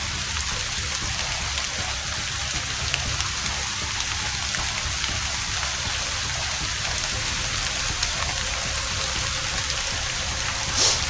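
Steady, dense rainfall pours down without letup, a constant loud hiss of drops hitting surfaces close by.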